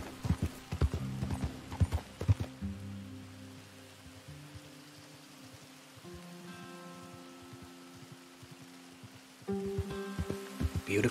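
Horse hooves clip-clop in Red Dead Redemption 2, a quick burst of close hoofbeats at first, then quieter steps under droning ambient music, with the hoofbeats picking up again near the end.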